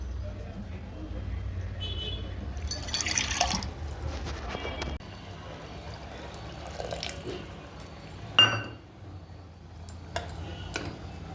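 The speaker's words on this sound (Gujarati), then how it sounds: "હવે જરૂર મુજબ પાણી નાખી દઈશું" Water poured into a vegetable curry in a pot, meant to cook to four pressure-cooker whistles. Splashing bursts and drips mix with clinks of utensils, with a voice speaking at times.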